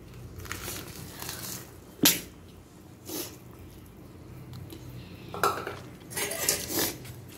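Jaggery being stirred into a pot of milk kozhukattai rice dumplings, giving a few scattered scrapes and clinks of a spoon against the pot, with quieter rustling between them.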